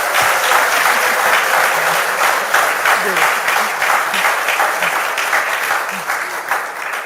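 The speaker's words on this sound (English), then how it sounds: "If you are, clap. If you're not, clap." An event audience claps loudly and continuously, a thick, sustained roar of many hands close by, with a few faint voices mixed in underneath.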